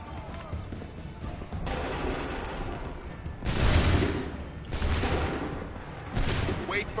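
Musket volleys fired on command by a line of soldiers in Assassin's Creed 3, several loud crackling bursts spaced a second or two apart over steady battle noise and shouted orders.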